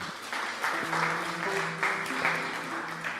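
A church congregation applauding to acclaim the Lord during a worship gathering: a lively wash of clapping with a sustained tone underneath, moderately loud and continuous throughout.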